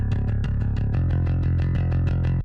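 Layered palm-muted bass blending an Ampeg amp sound with the raw DI, played as a rapid, evenly pulsing chug with brighter pick attacks on top, shifting to a new note partway through before stopping.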